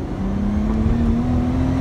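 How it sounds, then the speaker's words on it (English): A Nissan Skyline R34 GT-T engine hums steadily and rises slightly in pitch as it revs, loud and close, with no one talking. "that airy RPM revving through the rev ranges"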